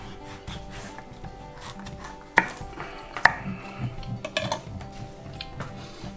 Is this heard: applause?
no